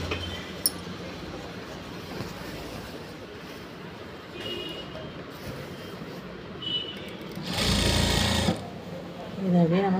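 A sewing machine stitches a tuck in a readymade skirt, its steady mechanical whir running quietly under a tailor's talk, with a louder, denser burst of stitching near the end.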